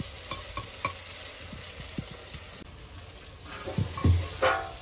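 Goat meat sizzles quietly in a pan while a utensil scrapes and knocks against it in irregular strokes, the clatter growing louder toward the end.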